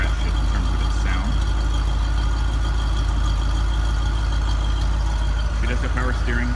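A restored 1979 Corvette with a 4-speed holds a steady, loud idle, a continuous low engine rumble throughout with faint higher mechanical notes and no speech.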